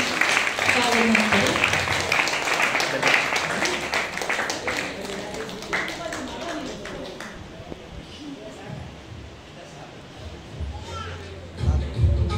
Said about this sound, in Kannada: ಎಲ್ಲರೂ ಚಪ್ಪಾಳೆ ತಟ್ಟರೆ ಮೊದಲು